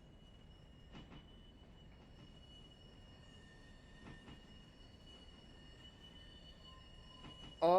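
Trains in the Railroader railway video game rumble faintly and steadily, with occasional soft clanks and a brief loud squeal at the end.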